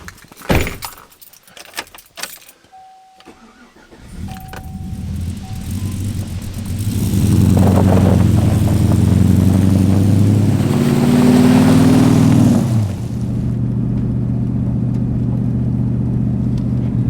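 A pickup truck's engine pulls down the road, first a few jangling clicks and knocks, then a steady close drone that climbs as it accelerates, eases off and settles into an even cruise.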